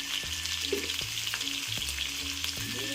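Spiny gourd (kakrol) with turmeric frying in a pan gives a soft, steady sizzle, broken by a few sharp spatula knocks against the pan about every half second to second.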